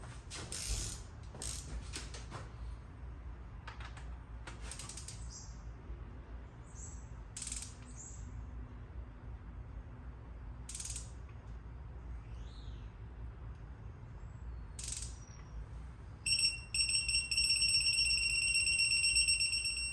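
Sharp ratcheting clicks in short bursts from a torque wrench tightening bolts to 30 foot-pounds on a BMW, nearby, with a faint mechanical hum and a brief high whine near the end.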